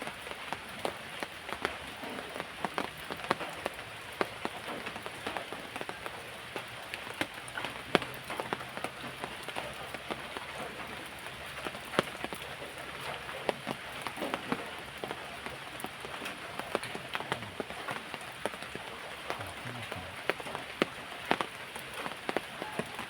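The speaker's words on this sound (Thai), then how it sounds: "ฝนตกพี่น้อง ตก ตั้งแต่เมื่อคืนนะครับ" Steady rain falls on surfaces nearby, a continuous soft patter with scattered sharper drips and taps, moderately quiet and with no talking.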